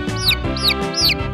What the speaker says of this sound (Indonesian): Lucunya, itu anak ayam.